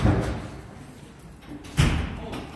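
A door is banged hard twice amid muffled background rumble during an emergency response to a house fire, each a low heavy thud with a brief echoing tail.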